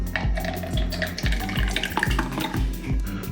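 Peanut butter and jelly ice cream base being poured into a Ninja Creami container, a thick, glugging pour with steady, rhythmic plopping pulses heard up close and alone.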